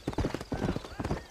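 Horse hooves clip-clop in quick uneven beats in the Red Dead Redemption video game, a brisk close trot under a voice speaking.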